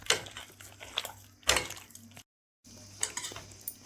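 Batter for raw banana bajji is mixed in a bowl, with soft, irregular scrapes and clinks of stirring close by, a brief total silence partway through, then more mixing.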